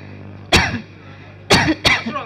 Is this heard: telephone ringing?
no